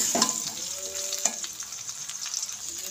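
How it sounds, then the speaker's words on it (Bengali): Jujubes frying in hot oil in a pan, a steady close hiss and sizzle with a couple of brief louder spatters and light stirring. "আমি 2 মিনিট এভাবে ভেজে নেব"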